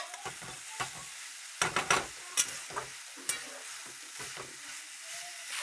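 Green moong being stirred in a pan, a quiet gentle sizzle broken by a series of scraping strokes and soft knocks at irregular intervals, with no talking.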